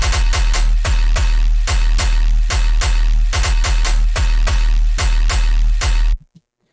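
A punchy gun sound effect built into a music track, repeating in a steady rhythm of sharp, loud hits over a booming low end for about six seconds before cutting off abruptly to near silence.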